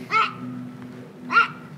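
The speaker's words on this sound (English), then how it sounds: "That was a dog." A dog barks twice outdoors during a disc golf round, two sharp, fairly distant barks about a second apart over a steady low background hum.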